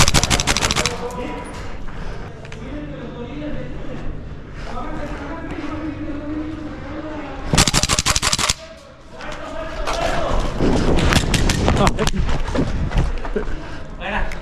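Airsoft guns fire in a sports stadium, with bursts of rapid shots and a loud volley near the middle, while people talk and call out throughout.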